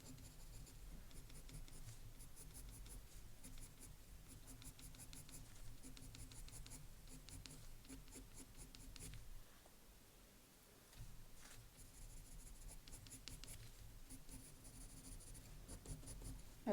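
Colour pencil strokes on smooth Strathmore vellum paper, a faint close-up scratching in rapid repeated bursts with a brief pause midway, no talking.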